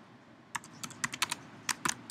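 Quick, irregular clicks of keys on a computer keyboard, a burst of close, crisp taps with brief pauses between them.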